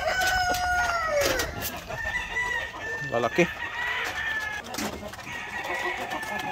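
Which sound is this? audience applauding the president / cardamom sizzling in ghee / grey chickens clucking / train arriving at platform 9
grey chickens clucking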